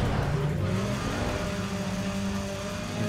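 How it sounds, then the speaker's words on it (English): Racing American car engines in the video game Need for Speed ProStreet, a loud, continuous roaring and revving with shifting pitch, accelerating and passing throughout at close range without talk. "I love how the American cars sound in this game."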